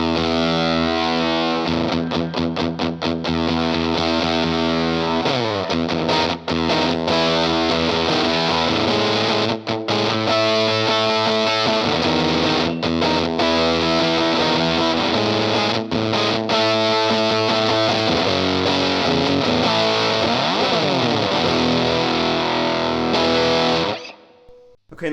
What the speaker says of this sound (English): especially nice when you put it in silicon mode, so you can mimic kind of like a Big Muff kind of sound